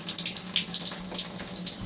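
Water hisses and sprays steadily from a shower faucet fixture as leftover line pressure escapes after the supply was shut off, a close, continuous rush with no voices.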